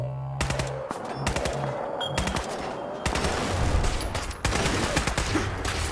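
Rapid automatic gunfire rattles in Fallout 4 as a Mr. Gutsy robot is shot at, dense bursts of shots with brief gaps, loud and close over game ambience.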